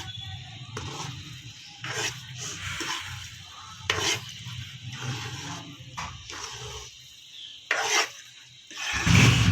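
Pumpkin halwa stirred in a pan on a stove, with a spoon scraping repeatedly in rhythmic strokes over a soft sizzle, close and moderately loud, ending in a louder clatter.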